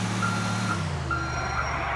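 A truck in GTA: The Lost and Damned sounds repeated steady reversing beeps, evenly spaced and fairly loud, over a low engine drone.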